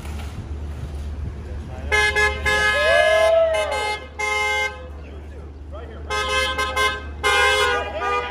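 Several car horns toot in bursts, some long and sustained, close by at a roadside charity food drive run with a fire department, with voices talking between and under the honks.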